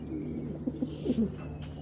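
Soft, low pigeon coos sound close by, a few short throaty notes over a steady background hum.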